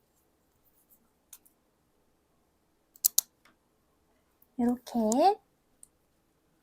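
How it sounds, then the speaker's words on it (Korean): Scissors snip through a craft chenille stem for a carnation flower, making a quick pair of faint, close clicks, followed by a short spoken remark. "끝부분 기준으로 10cm 재주신 다음 잘라줍니다"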